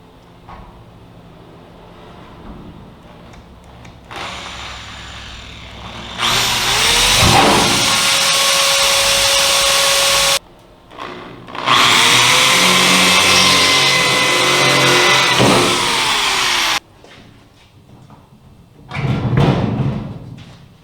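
A power drill bores pilot holes into the lip of a table top in two long, loud whirring runs, with a short burst at the end, quiet shop pauses between and no speech.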